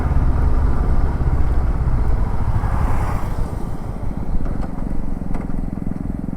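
A Honda NX500 motorcycle engine idles roughly and steadily up close, a low continuous rumble with faint clatter that holds at a constant level throughout.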